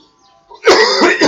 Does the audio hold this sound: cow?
no